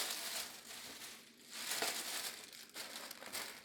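Thin plastic bags, including dry-cleaning and store bags, crumpled and stuffed into another bag, a continuous close crinkling rustle with sharper crackling bursts, fairly quiet and alone.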